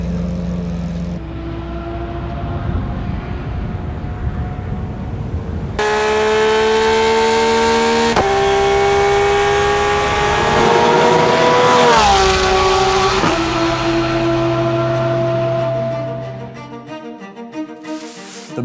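A Porsche 911 GT3 R Rennsport race car engine roars loudly at high rpm through several rising and falling revs, with shifting pitch and a brief squeal-like edge, then fades toward the end.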